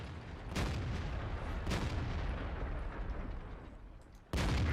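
Tank cannon fire in the World of Tanks video game, with two heavy booming shots early on followed by rumbling battle ambience and a third sharp blast near the end.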